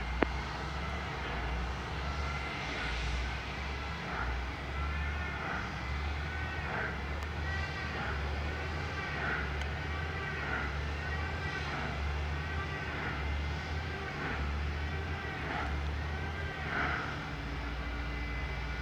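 A JetBlue airliner taking off from runway 07 at Montego Bay, Jamaica, gives a steady, heavy engine roar with a low rumble, holding strong for the whole stretch with no voices.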